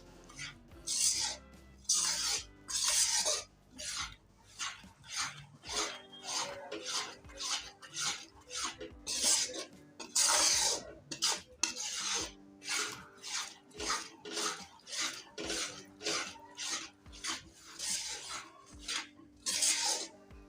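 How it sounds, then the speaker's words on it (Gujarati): Gram flour roasting in ghee in a pan while a spoon stirs it, giving a steady run of dry rasping scrapes in a quick, regular rhythm, close and clear with no talk. "તો હવે આપણો લોટ છે એ શેકવા માંડ્યો છે."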